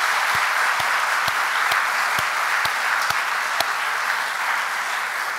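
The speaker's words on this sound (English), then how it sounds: "So I'd like to ask you to give a round of applause to Novo for" At an event with Deborah Jiang-Stein and Gloria Steinem, the audience gives sustained applause for Novo, a steady dense clapping wash with a few sharp, louder individual claps standing out along the way.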